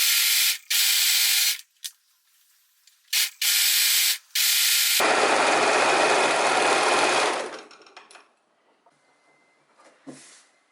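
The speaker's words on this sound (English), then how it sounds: "we go to our overlock machine and overlock both seams" Overlock machine stitching the seams of linen shorts, several loud rapid mechanical bursts that start and stop, then one longer steady run that tapers off, ending in faint handling sounds.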